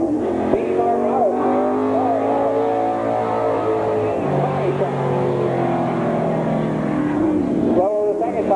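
Race car engines lapping Columbus Motor Speedway in 1988, including a car sponsored by Speedway Auto, drone steadily and loudly throughout with shifting pitch, under a commentator's voice calling times.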